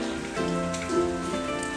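Steady rain falls on a surface on a rainy day, a continuous dense patter of drops that stays close and even throughout, with a faint tonal hum running underneath and no voices.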